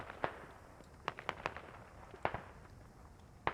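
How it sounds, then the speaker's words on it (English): Grenade and gunfire blasts echo through a tactical shooter match, arriving as a scatter of sharp, distant cracks and pops over a low hum, with no speech. "Spinksy gets a bit of a grenade."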